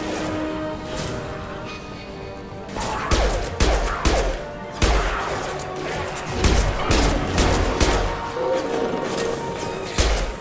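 Third-person shooter combat in Mass Effect 2: repeated gunfire bursts and crashing impacts with glass smashing, dense and loud over a steady background hum, with no talking.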